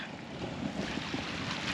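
Cold winter wind gusts across choppy open water, a steady broadband rush with buffeting on the microphone and a low wash of waves beneath, with no voices.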